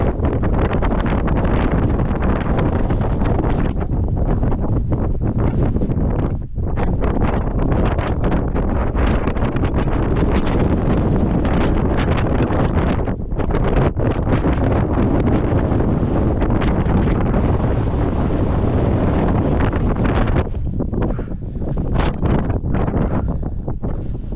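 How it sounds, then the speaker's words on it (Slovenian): Strong, continuous wind buffets the microphone on a 4005-metre mountain summit, Aragats in Armenia, roaring loud and close with constant gusty rumble and no voices. "Piha ko pri norcah."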